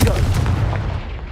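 A Confringo blasting spell explodes in the Hogwarts Legacy video game, a loud, heavy boom that hits at once and rumbles on, slowly fading over a second or so.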